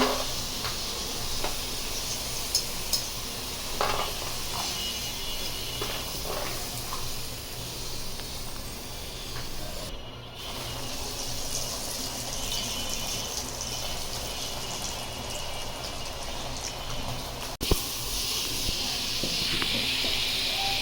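Potatoes frying in a pan in a home kitchen, a constant hissing sizzle with occasional small pops and crackles that runs steadily throughout.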